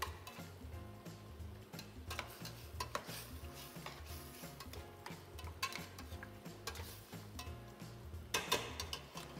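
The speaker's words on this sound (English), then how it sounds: "So we're just going to give it a quick stir." Meat browning in a pot for a Cuban braise, stirred with quick scraping and tapping strokes over a low sizzle, faint and fairly steady with no talking.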